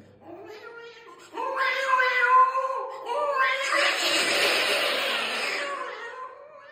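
A human voice mimics cats meowing, drawn-out wavering yowls that swell into a harsh, noisy caterwaul, loud and close with no other talk.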